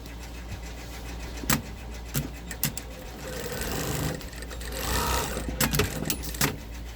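Sewing machine stitching fabric for the toe of a lined, cuffed Christmas stocking, a steady close whirring run with a few short bursts and clicks, no talking.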